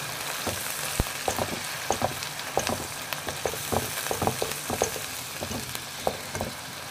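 Ginger garlic paste frying in a pan at a home kitchen stove, a steady close sizzle with crackling pops and bursts of stirring clatter throughout, no talking.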